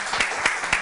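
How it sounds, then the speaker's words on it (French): A brief burst of crowd applause, dense clapping with a few sharper accents, cut off quickly. "on applaudit pour les raccompagner"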